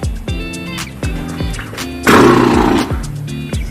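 A human voice imitates a horse's neigh in a series of rapid repeated whinnying bursts followed by a louder, longer drawn-out cry, delivered close and alone.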